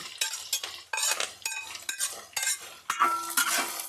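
Curry leaves, ginger and garlic fry in hot oil in a pan for bitter gourd pickle, the sizzle broken by repeated scraping and clinking strokes of a metal spoon stirring against the pan.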